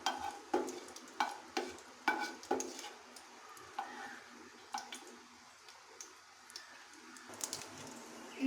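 Cumin seeds sizzling in hot oil in a pan, a soft crackle broken by a series of regular light clicks and taps from a spoon, fairly quiet and close; no voices.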